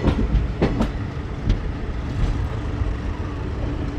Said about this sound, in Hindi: प्लेटफॉर्म नंबर 2 पर ट्रेन जा रही है हम लोगों की